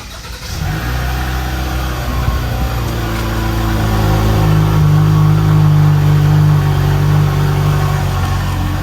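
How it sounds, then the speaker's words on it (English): A Hyundai Tucson engine cold starts by remote start, catching quickly and then settling into a loud, steady idle with the revs rising slightly midway, heard up close with no talking. "So here we are with the Tucson. We're gonna cold start it, remote start."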